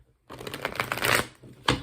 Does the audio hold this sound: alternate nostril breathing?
no